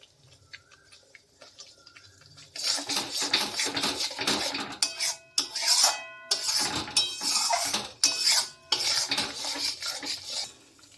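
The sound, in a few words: frying and stirring spices in a pan for aloo dum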